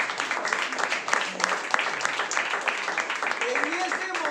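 A church congregation applauds for a pastor, a moderately loud, steady clatter of many hands, with voices mixed in underneath the clapping.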